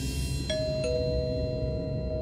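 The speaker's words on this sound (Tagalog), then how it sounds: "may nag-doorbell." A single electronic ding-dong chime rings once over a steady background hum, its second tone lingering and fading.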